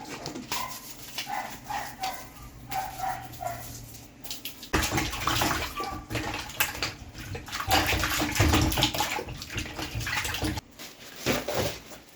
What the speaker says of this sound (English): So I wash my hand again.